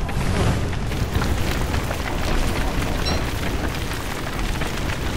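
A Treeguard catches fire in a cave in the game Don't Starve, a dense, roaring whoosh of flames that holds steady and loud for several seconds without a break.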